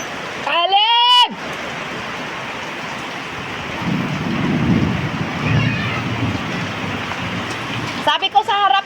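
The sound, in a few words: rain with thunder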